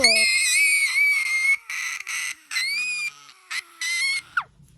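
A high-pitched, piercing scream reacting to a fake mouse-poop prank made of chocolate chips on a desk, coming in several loud sustained bursts with short breaks, ending in a falling squeal.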